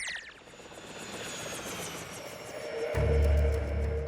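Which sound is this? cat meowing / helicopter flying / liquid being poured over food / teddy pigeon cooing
helicopter flying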